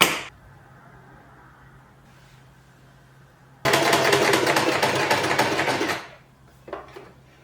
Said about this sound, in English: I cut off the excess, trimmed the ends and secured it by stitching.